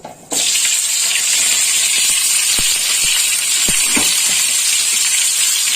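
Chopped vegetables hit hot oil with whole spices for a Bengali summer vegetable jhol. A sudden loud burst of sizzling follows and holds as a steady, close hiss, with a few soft knocks underneath.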